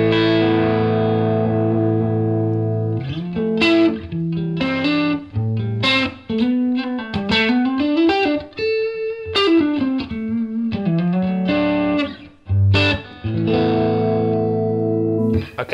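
Electric guitar played through a Fractal FM3 on its AC20 amp model into a Line 6 Catalyst amp, with effects and reverb; a sustained chord, then lively riffs and bends, then a ringing chord, loud and alone.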